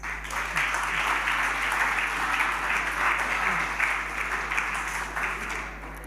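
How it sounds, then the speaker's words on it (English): Audience applause rises for the nominees at a provincial sports awards ceremony, a broad, steady roar of clapping that holds evenly for several seconds before easing slightly at the end. "we give a round of applause to all the nominees"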